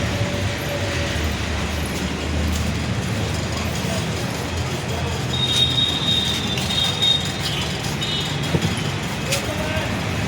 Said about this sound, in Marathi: मेट्रोचं आहे मेट्रो